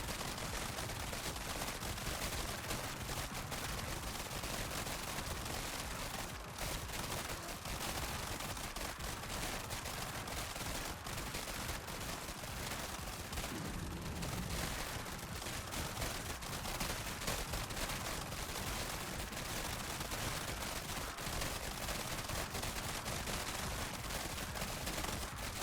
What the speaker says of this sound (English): Just fire and purple explosions everywhere.